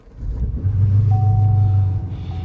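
A 2015 Chevrolet Camaro SS 1LE V8 engine catching on a cold start in freezing weather, a close, loud low rumble that swells quickly and settles into a steady idle.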